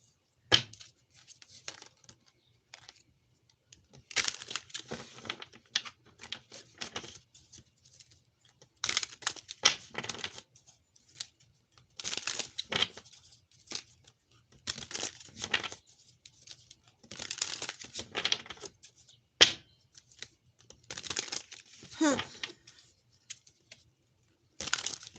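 Tarot cards being shuffled, in repeated bursts of papery riffling and flicking separated by short pauses, close and fairly quiet with no talk.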